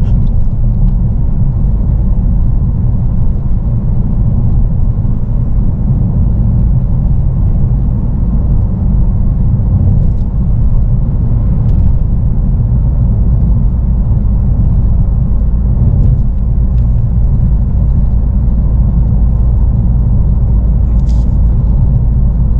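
A car cruises steadily along a countryside road, producing a loud, constant low engine and tyre rumble with little variation, heard from inside the vehicle for the whole stretch with no talk.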